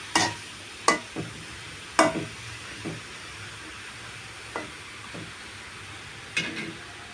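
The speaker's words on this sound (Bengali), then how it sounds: "নেড়ে চেড়ে আমি ঢাকা দিয়ে ঢেকে দেবো।" A spoon stirs and scrapes vegetable curry in a pan, giving irregular clacks and scrapes over a soft sizzle, with nobody talking.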